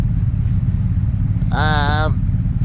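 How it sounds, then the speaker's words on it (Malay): Motorcycles riding along a road from Aranyaprathet toward Bangkok at dusk, a loud steady engine drone with heavy wind rumble, and a voice speaking briefly over the noise. "Kami berempat bawa motor terus ke Bangkok selama 2 jam lebih."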